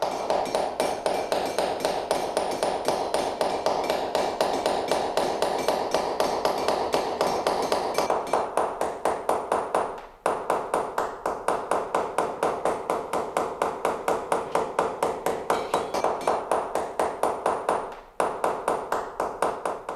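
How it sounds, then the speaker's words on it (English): Chasing punches are hammered into a copper sheet in a traditional German workshop, giving a rapid, even series of sharp metallic taps that runs on for many seconds, broken by two brief pauses. "he uses various chasing punches to strike each contour"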